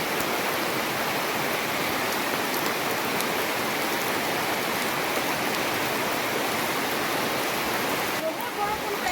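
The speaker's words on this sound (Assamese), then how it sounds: "বহুত বৰষুণ পৰিছে" Heavy rain pours steadily and densely at a temple, a loud continuous hiss with no break for the full stretch.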